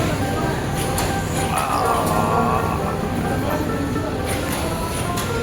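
The Chattala Express, a train arriving from Chittagong at an airport railway station, rumbles and clatters steadily on the rails with some squealing, loud and close, while people talk nearby.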